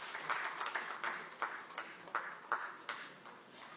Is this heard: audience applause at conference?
yes